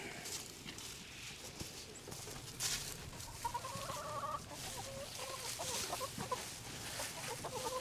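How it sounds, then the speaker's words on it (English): Several chickens cluck and murmur softly at a distance on a farm, intermittent calls over a quiet outdoor background. "Even the chickens have come out to see if they can get some scraps."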